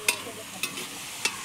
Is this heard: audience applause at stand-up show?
no